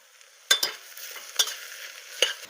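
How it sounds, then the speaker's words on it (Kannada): Diced tomato and two lengthwise-cut green chillies drop into a pan for mutton gravy, giving three sharp stirring clatters over a soft, steady sizzle, with no talking. "ಹಚ್ಚಿದ ಒಂದು ಟೊಮೆಟೋನ ಹಾಕ್ತೇನೆ ಉದ್ದ ಕಟ್ ಮಾಡಿದ ಎರಡು ಹಸಿಮೆಣಸನ್ನು ಹಾಕ್ತೇನೆ"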